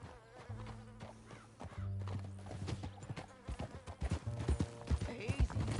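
Horse hooves clip-clop in a rhythmic gallop during a riding sequence in Red Dead Redemption 2, with a horse whinnying, game music and voices underneath, the hoofbeats growing louder and denser toward the end.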